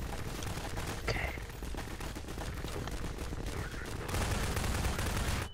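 Rapid gunfire fills a Garry's Mod survival match, dense and continuous like a fusillade, loud and close with a sustained crackle that barely lets up.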